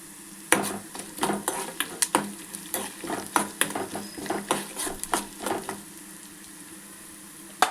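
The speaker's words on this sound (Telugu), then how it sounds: "ధనియాలు, జీలకర్ర, మెంతులు బాగా ఫ్రై చేయనియాలి" Coriander seeds, cumin and fenugreek fry in a pan under a soft sizzle, broken by rapid, uneven scrapes and clinks of a spatula against the metal, close and lively.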